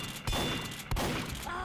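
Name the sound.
shotgun critical hit in a video game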